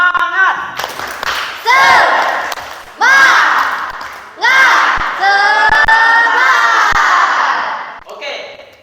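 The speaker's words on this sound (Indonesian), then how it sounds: "Untuk terakhir kalinya, tepuk semangat" Classroom of students doing a spirit clap together, loud bursts of rhythmic group clapping mixed with chanted shouting in several waves, close and lively, with voices calling throughout.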